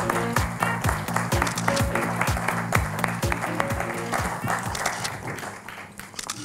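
Audience applause at a French business awards ceremony, dense steady clapping from a crowd, with rhythmic music beats pulsing underneath throughout.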